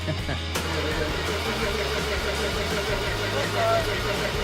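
The engine of a demo cross car on a ramp truck runs in a steady, rumbling idle, close and continuous, with people talking nearby.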